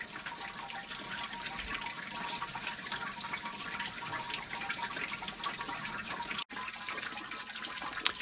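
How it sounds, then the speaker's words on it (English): Water flows and trickles steadily through a mash tun, 15 litres draining through the grain, a continuous soft gurgling wash at close range with a brief interruption near the end. "we are draining 15 litres of water through it"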